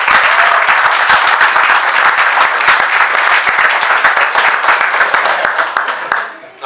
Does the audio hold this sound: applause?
yes